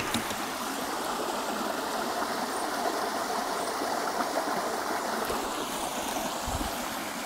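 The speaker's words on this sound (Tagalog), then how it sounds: "Yung flowing water mas maganda." Water rushes and burbles steadily in a close, continuous flow from a river in Itogon running over stones, with no voices.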